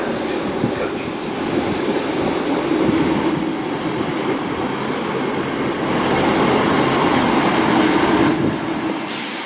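A two-coach train at Bristol Temple Meads station rumbles steadily nearby with a broad, constant roar and faint rattling, swelling slightly louder toward the end, without speech.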